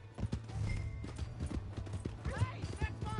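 Horse hooves clip-clop at a steady trot in Red Dead Redemption 2, with a short whinny near the end, heard close and under overlapping speech.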